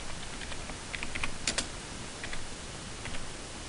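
Terminal command typed on a computer keyboard while installing MySQL server on Ubuntu: a quick run of close, light key clicks in small clusters over a faint background hiss.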